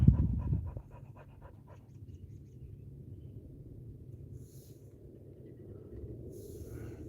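A dog pants beside a fishing pole at Bear Lake, a short burst of quick breaths at the start, then fading into a low steady outdoor rumble with faint insect chirps, close by and without talk.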